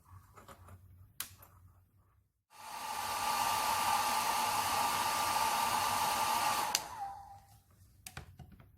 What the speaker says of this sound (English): I'm going to dry it with my hairdryer.